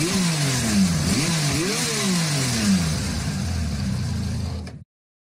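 A motorcycle engine revs up and down, rising and falling in pitch over several strong pulls before cutting off abruptly, loud and close with no voices.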